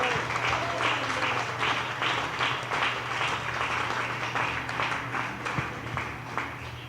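A church congregation applauds together in one steady, dense wash of clapping that lasts throughout, with a voice speaking over it.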